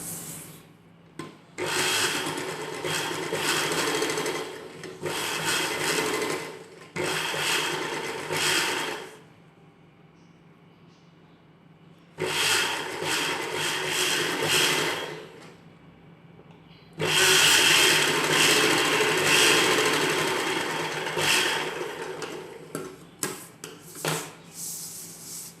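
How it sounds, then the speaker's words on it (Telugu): A sewing machine stitches the top seam along the neckline of an umbrella-cut dress in several long whirring bursts, separated by quiet pauses and ending with short stop-start runs, close by with no talking. "ఇప్పుడు పైవైపున కుట్టు వేసుకుందాం"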